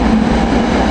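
Passenger train 2455 from Norristown, running late with several rail cars, rumbles past at close range, a loud, steady roar of wheels and cars filling the short moment.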